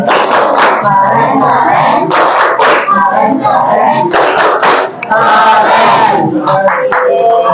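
A school class performs a rhythmic clapping chant in a classroom, with loud bursts of patterned hand claps alternating with children's voices shouting the chant together.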